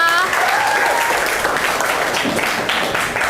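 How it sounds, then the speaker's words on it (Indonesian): Applause fills a nursing class after a student's presentation, a dense steady patter of many hands that holds at an even level throughout with no talk over it. "Tepuk tangan untuk Eka"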